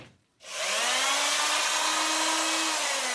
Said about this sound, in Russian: можно просверлить еще одно отверстие, чтобы ровнее выливалось